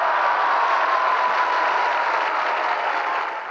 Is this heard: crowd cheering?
yes